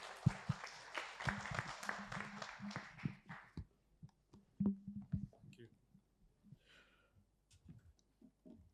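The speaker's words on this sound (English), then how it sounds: "I think we should clap to the contributors as well." A workshop audience gives brief applause for the contributors, a burst of clapping that dies away after a few seconds, leaving sparse clicks, shuffling and faint voices in a quiet room.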